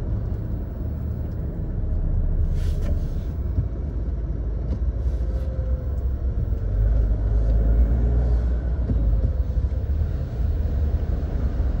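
A Mahindra Scorpio Classic fitted with ARC suspension is heard from inside while it drives on an Indian road: a continuous low engine and road rumble with tyre noise, steady throughout, with no one speaking.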